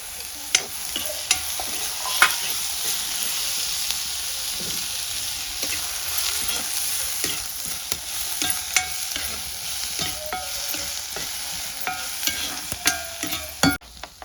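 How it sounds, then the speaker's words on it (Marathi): Onion and tomato fry in a pan with a steady, bright sizzle, while frequent spoon scrapes and clicks against the metal come close and clear throughout, with no talking. "आता टमाटो घालून घेते. भाजून घेते परत एकदा."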